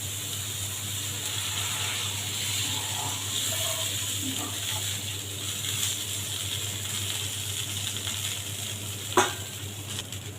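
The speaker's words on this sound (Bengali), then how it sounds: "এখন দিয়ে দেব জল।" Hot oil and fried spices sizzling in a pan while water is poured in for an egg curry, a steady hiss with soft stirring and a sharp clatter near the end, no voices.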